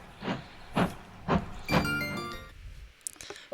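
Train riding sounds from the visual novel game Code: Realize, with four evenly spaced heavy rumbling clunks, like wheels over rail joints, then a sustained rolling hum that fades into quieter rattles.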